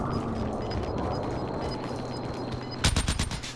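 A burst of rapid automatic gunfire erupts near the end, a quick loud rattle of shots after a quieter stretch of game ambience, from Call of Duty Warzone.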